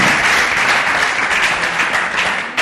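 A studio audience at a Congolese comedy show bursts into dense, sustained applause, loud and close, continuous clapping that tapers slightly at the end with no talking.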